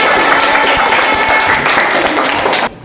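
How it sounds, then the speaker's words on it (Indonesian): A classroom of students breaks into loud, sustained applause, a dense wash of many hands clapping that holds steady for nearly three seconds before cutting off abruptly. "Tepuk tangan"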